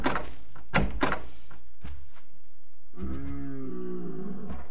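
A door is handled, with loud close thumps and bangs early on, then a low groaning, roar-like voiced sound toward the end.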